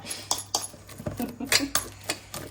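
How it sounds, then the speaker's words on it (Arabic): A bent spatula stirring a mixture in a metal bowl, with quick clinking and scraping strokes in an uneven rhythm, several taps a second, close and fairly loud. "تبقاي تماسي يصير الخليط هيجي، وتداومين مع هاي الشطل المعوجة"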